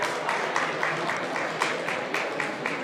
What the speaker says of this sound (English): A round of applause, please, and a photo